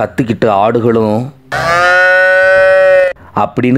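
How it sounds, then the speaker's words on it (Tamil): A cow moos loudly in a long, drawn-out low call lasting about a second and a half, with brief murmurs of narration around it, used as a sound effect in a Tamil audiobook scene of village cattle running. "கத்திக்கிட்டு மாடுகளும் தறிகிட்டு ஓடி வருதுக"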